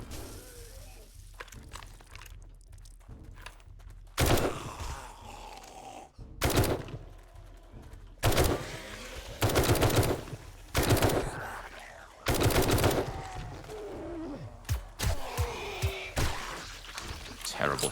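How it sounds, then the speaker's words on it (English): Bursts of rapid automatic gunfire at live targets in 7 Days to Die, several loud volleys of a second or so each, separated by quieter stretches of ambient game sound. "Terrible shooting."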